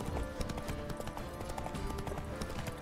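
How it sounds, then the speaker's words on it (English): Hooves pound in a rapid, rhythmic gallop as a horse runs across terrain in The Witcher 3: Wild Hunt. The beats are close and continuous over a soft ambient bed. "Run, Roach"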